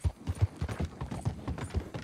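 Horse hooves clip-clop at a steady trot while riding in the video game Red Dead Redemption 2, a regular rhythmic thudding of muffled beats, moderately close.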